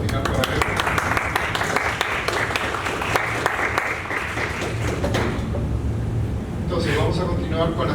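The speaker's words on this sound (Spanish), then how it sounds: "Un aplauso final para Alejo." A symposium audience applauds a speaker, with dense, steady clapping filling the room for several seconds before it thins out and a voice begins speaking.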